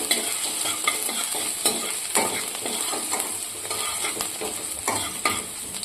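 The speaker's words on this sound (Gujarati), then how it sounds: "મરચું આપણે સમારેલું છે એ નાખીશું. અને આદુની આપણે પેસ્ટ બનાવેલી છે એ નાખીશું." Chopped chili and ginger paste sizzle and fry in a pan with steady crackling, while a utensil stirs and scrapes against the pan at regular intervals, close and clear with no talking.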